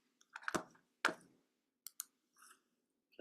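Computer mouse clicks while entering data, a few sharp close clicks spaced irregularly over a few seconds in a quiet room.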